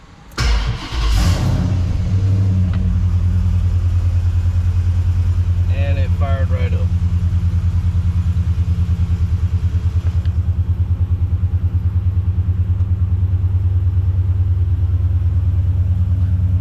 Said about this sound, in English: And now let's see if it's going to crank.